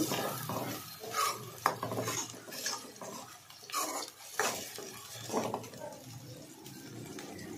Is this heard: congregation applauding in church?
no